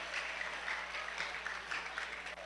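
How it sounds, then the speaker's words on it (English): Applause from an audience at an etiquette teaching session, a steady wash of clapping that holds evenly throughout without any voices. "A round of applause for him."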